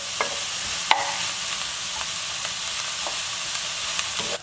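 Vegetables browning in a soup pot, giving a steady, moderate sizzle with occasional light clicks and scrapes of stirring, close by and without speech.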